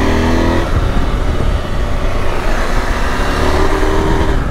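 A travel-style motorcycle engine pulls steadily under acceleration while riding along curvy roads, its continuous loud drone mixed with wind rush and no voices.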